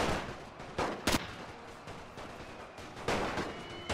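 Gunfire in the video game The Great War, where a general carries a Luger pistol, comes as several sharp cracks over a busy battlefield din, one standing out clearly near the middle.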